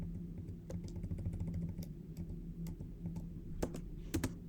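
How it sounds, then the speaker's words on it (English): Computer keyboard keys are pressed in quick, uneven runs of clicks, fairly faint over a low steady hum, with a few sharper taps near the end. "So we can use our keyboard like so."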